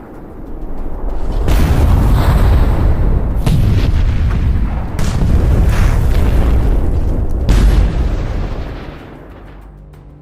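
Landmine detonating beneath a tank pushing through a minefield: several heavy, booming blasts in succession, loud and close, with long rumbling tails and no voices.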